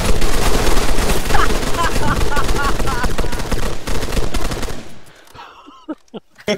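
A volley of rapid gunfire in the video game Arma 3 rattles loudly and densely for several seconds, then cuts off, leaving a few faint scattered sounds and brief voices.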